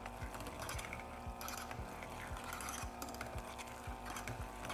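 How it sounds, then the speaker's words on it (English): An electric hand mixer mashing cooked potatoes whirs steadily, with a regular rapid clicking rhythm from the beaters, close and moderately quiet throughout. "I'm using my hand mixer."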